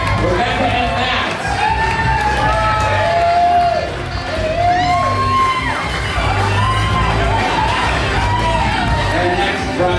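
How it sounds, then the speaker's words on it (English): Wedding guests applaud and cheer as Rebecca and Matt are introduced at the reception, loud crowd noise with whoops and shouts over music and voices, sustained for the whole stretch. "Give a big round of applause"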